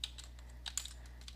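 Keystrokes on a computer keyboard as a file name is typed, a handful of soft, sparse clicks spread unevenly across a short quiet moment with faint room hum beneath.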